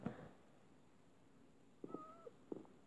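A cat meows a couple of times in Minecraft, short and fairly soft, with a faint thump at the start and a quiet background.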